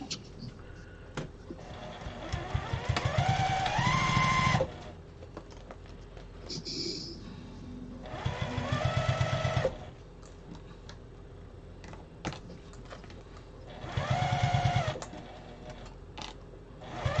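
Sewing machine stitching Moda quilt blocks in three separate bursts of rapid, rhythmic needle clatter, each a couple of seconds long, separated by quieter pauses with light handling noise.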